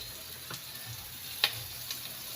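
Garlic and ginger fry in a pan with a soft, steady sizzle and a few faint clicks and utensil taps, close and quiet.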